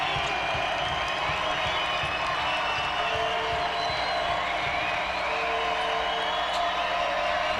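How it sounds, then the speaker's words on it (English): Basketball crowd of MNU fans at a 2009 NAIA national tournament game, a steady broad roar of cheering and scattered clapping filling the arena, with a commentator talking over it. "And here comes the MNU crowd."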